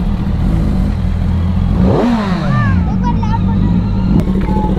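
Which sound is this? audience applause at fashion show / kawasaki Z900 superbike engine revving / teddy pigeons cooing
kawasaki Z900 superbike engine revving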